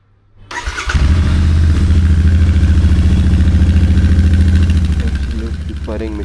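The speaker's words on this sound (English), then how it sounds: "I'll make you guys hear the cold start." A GT650 motorcycle engine cold-starts on a foggy morning, cranking briefly before catching into a loud, steady, throbbing twin-cylinder idle that stays close and runs evenly, with a faint voice near the end.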